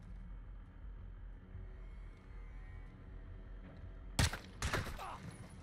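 A quiet rumbling background, then a few sharp bursts of gunfire near the end, loud and close, with a short cluster of shots, in Call of Duty: Modern Warfare II.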